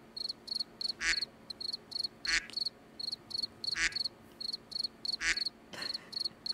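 Steady cricket chirps from The Sims repeat in dense pulsed bursts, joined every second or so by a louder croaking or quacking call, forming a looping rhythmic pattern.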